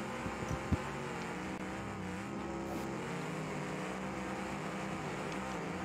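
A car engine in a video game drones continuously at an even, moderate level, with a few small knocks near the start and no talk over it.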